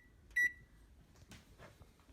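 A kitchen timer gives one short, bright electronic beep as it is set while focaccia is being made, followed by quiet kitchen handling sounds.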